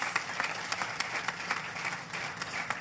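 A crowd at a Labor Day celebration applauds with steady, dense clapping, moderately loud and a little distant, lasting a few seconds without speech.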